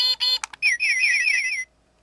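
A toy scooter's horn button plays a short electronic sequence: a few quick beeps followed by a bright warbling birdsong trill that stops abruptly after about a second.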